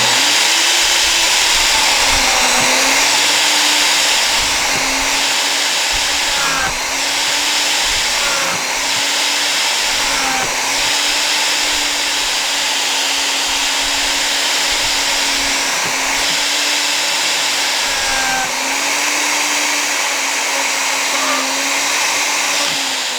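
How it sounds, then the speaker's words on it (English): A router cuts a straight groove into a wooden board with a loud, sustained high whine that dips briefly in pitch as the bit bites and recovers, running continuously with no talking. "I've got the router bit set just over the board"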